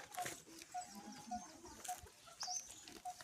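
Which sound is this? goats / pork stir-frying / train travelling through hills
goats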